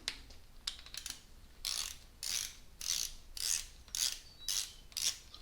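Ratchet wrench tightening bolts during engine assembly on a Sierra truck with a 5.3 swap, a steady series of about eight raspy clicking strokes in regular rhythm, close and fairly quiet, with no talking.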